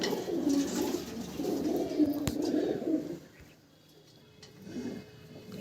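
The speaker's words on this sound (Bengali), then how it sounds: "অনেক লং সাইজ পায়রা" Madras and Giribaz pigeons coo softly with low, murmuring calls, with faint rustling and handling noises as a long male pigeon is held nearby.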